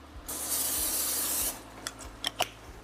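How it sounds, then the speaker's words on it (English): Pam cooking spray is spritzed into a casserole dish in one steady hiss lasting over a second, followed by a few light clicks and taps of the dish and can. "I just want to spritz my casserole dish."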